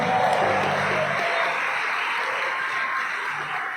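A church congregation at an Easter service claps together in sustained, dense applause that fills the room at an even level, with faint crowd murmur underneath.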